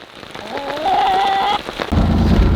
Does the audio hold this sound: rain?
yes